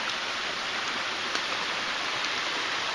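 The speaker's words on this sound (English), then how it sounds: "It's just barely raining, not much." Soft, steady patter of light rain on the Eagle Rock Loop hiking trail, a constant gentle hiss with no other sounds.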